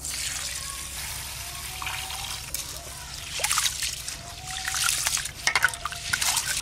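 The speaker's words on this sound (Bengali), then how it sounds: "চালটা ধুয়ে নেব, জল" Bashkathi rice is rinsed by hand in a bowl of water, with close sloshing and splashing that grows louder and more vigorous toward the end.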